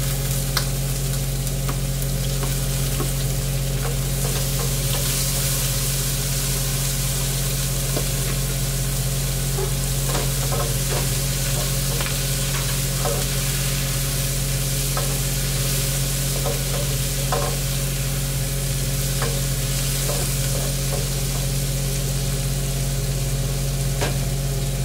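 Onion and tomato sautéing in hot oil in a pan for green beans with tofu and pork, a steady close sizzle with scattered stirring clinks and scrapes, no talking.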